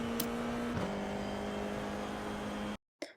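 Formula IR-04 race car engine lapping Suzuka in iRacing, a steady high-pitched whine holding close and loud, with a brief pitch dip as it shifts, then cutting off abruptly before a short burst returns.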